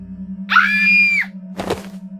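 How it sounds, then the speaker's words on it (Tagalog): A loud, shrill scream lasts under a second over a low steady hum, followed shortly by a dull thud. "nang marinig ko ang malakas na sigaw"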